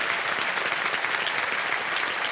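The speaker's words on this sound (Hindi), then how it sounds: "जोरदार तालियां बजाया" Loud, dense applause from a studio audience on the KBC quiz show, steady and sustained throughout with no pauses.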